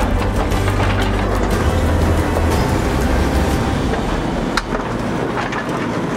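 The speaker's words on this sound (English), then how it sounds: "Griff is currently using the 135P excavator to level the ground all the way across to ensure that it's the proper depth evenly." A 135P excavator works ground level at a high-altitude leach field dig, giving a loud, continuous mechanical clatter and grinding with a heavy low rumble under it, with a sharp clank near the end and no talk.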